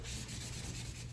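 Steady, close scrubbing of a cloth or brush rubbing permanent marker with cleaner, a continuous dense abrasive rasp with faint rhythmic strokes and no voices.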